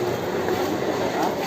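A suburban commuter train at Mambalam railway station on the Tambaram–Beach route gives off a continuous, close, broadband rumble of rolling wheels and motors, with no distinct pauses.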